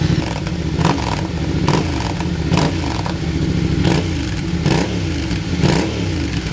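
A Yamaha Tenere 700 motorcycle fitted with a Mivv Dakar exhaust idles with a rough, close rumble, then snaps through a series of quick, sharp throttle blips at a roughly regular rhythm. No one speaks.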